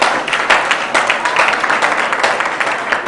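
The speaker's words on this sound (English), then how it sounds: "Can we give them a clap also?" An audience at a school quiz competition claps for the competing teams, a dense, sustained burst of applause at full strength across the whole stretch.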